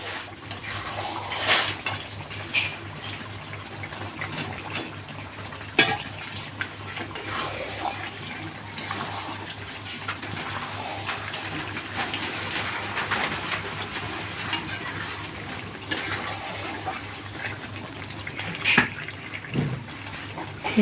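Water poured into a pot of chicken curry with potatoes, a continuous splashing and gurgling pour heard close over a steady low background hum, with small clinks now and then.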